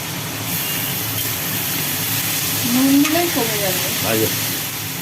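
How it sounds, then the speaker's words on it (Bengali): Shredded potatoes sizzle while frying in a pan, a steady hiss underneath someone speaking Bengali in the foreground. "ঝুড়ি ঝুড়ি করে আলু কাটা হয়েছে মানে ঝুড়ো আলু ভাজা"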